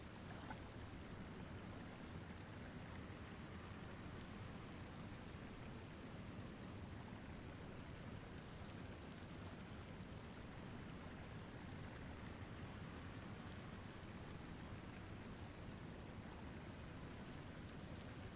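Steady, loud rush of falling water from a waterfall in the Lord of the Rings Online video game, a dense continuous roar with no pauses and no voices.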